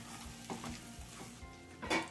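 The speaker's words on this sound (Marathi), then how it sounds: "आपण दाणे घातले आणि मीडियम फ्लेम वरती आपण हे परतून घेणार आहोत" Green corn kernels fry with onion in a pan over a medium flame, a soft sizzle broken by scraping stirs and a few light clinks, faint and close with no voices.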